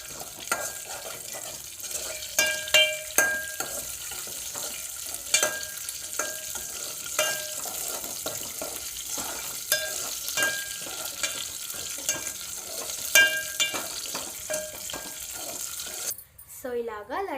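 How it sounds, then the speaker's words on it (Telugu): Raisins and cashews stirred into hot ghee for laddus, a continuous sizzle broken by repeated spoon scrapes and clinks against the pan, close and fairly loud, ending with a brief different noise. "సో దీంట్లో అయితే నెయ్యి వేసుకొని కిస్మిస్ జీడిపప్పులు వేసుకొని చక్కగా కలిపేసుకుందాం."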